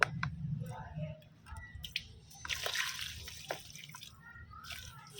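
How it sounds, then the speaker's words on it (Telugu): Water poured from close by onto dry compost soil in a potted plant, giving soft trickling and dripping with sloshing bursts, with low background noise underneath. "ఎంతైతే వాటర్ సరిపోతుందో అంత వాటర్ని మనం ఇచ్చేసుకుందాము"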